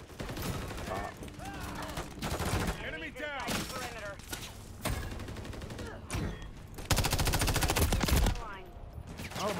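Sustained Modern Warfare 3 gunfire rattles in dense bursts with brief gaps. Game radio voices and a player talk over it.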